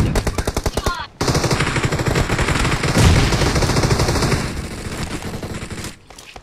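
Rapid automatic gunfire in PUBG Mobile during a team match, loud close bursts of shots in quick rhythm, a short pause after the first second, then sustained firing with game sounds mixed in.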